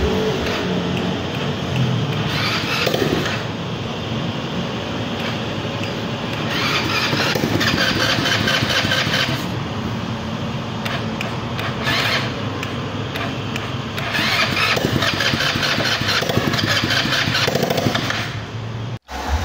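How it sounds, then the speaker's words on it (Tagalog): A motorcycle with a newly replaced piston and block, still stiff, is cranked on its starter motor, a steady loud whirring churn that struggles on without catching, ending in a short click. "mapapansin natin na hirap talaga niyang i-start gamit yung starter motor."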